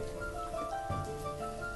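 Steady rain falls in the town-building game Banished, a soft even hiss that carries through the whole stretch beneath sustained background music, with no voices.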